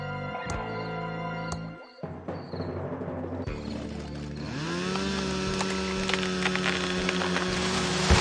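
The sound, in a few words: chainsaw cutting a fallen tree, Thimbleweed Park video game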